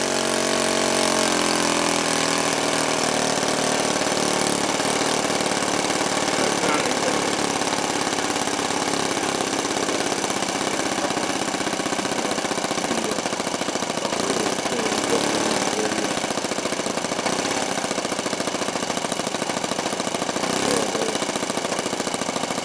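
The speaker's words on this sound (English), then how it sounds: "see if we can get that idle down a little slower" A model Zero airplane engine idles steadily and loudly for a long stretch, a continuous buzzing drone close by with only slight wavering in pitch, and no talking.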